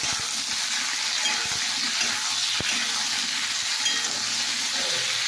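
Potato and eggplant frying in a pan while being stirred, a soft continuous sizzle with occasional scraping and clinking of the spoon, moderately close, with no speech.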